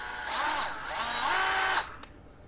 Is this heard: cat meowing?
no